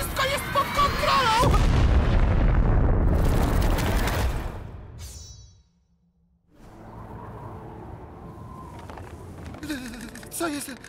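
A loud cartoon machine explosion with booming, crackling roars and whooshes, a brief hush, then rumbling debris and clattering as the noise settles.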